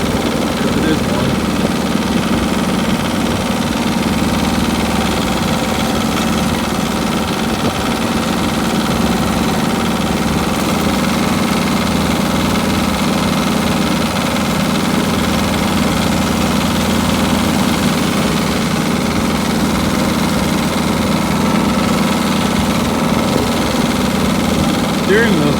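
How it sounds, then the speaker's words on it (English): A two-cylinder diesel engine idles loud and steady after a cold start in snow, a continuous low rumbling throb with no break, with a voice talking over it. "So the 2-cylinder is a little different sounding, but still pretty cool."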